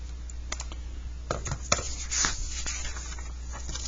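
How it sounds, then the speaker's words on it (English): Fingers tap out an entry on calculator keys in a quiet room, a light irregular run of small plastic clicks and presses, close and fairly soft, with a faint steady hum underneath. "just type it in the calculator"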